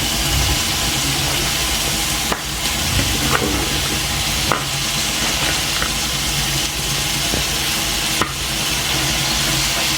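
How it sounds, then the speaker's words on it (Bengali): Tomatoes are stirred into sizzling spices in a pan for a koi fish curry, loud continuous frying hiss broken by periodic scraping strokes of a spoon, close and without voices. "টমেটোগুলো মশলার সাথে ভালোভাবে মিশাতে হবে নেড়ে চেড়ে দেখতেই পাচ্ছেন কি সুন্দরভাবে মশলা দিয়ে টমেটোর সাথে মিশানো হচ্ছে"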